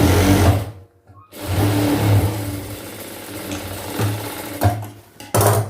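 A sewing machine stitches a chudidhar pant seam at a half-inch allowance, a steady close whir that breaks off briefly near the start and pauses again toward the end.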